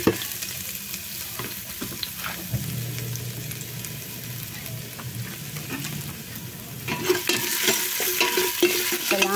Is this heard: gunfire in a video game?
no